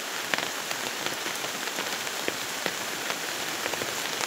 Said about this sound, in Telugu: వర్షం చూడు ఎట్లా వస్తుంది చూడండి.